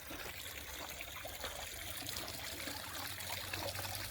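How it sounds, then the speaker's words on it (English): A garden water fountain in the formal garden of an 1840s manor trickles and splashes softly and continuously, faint and steady throughout with no voices. "Water fountain."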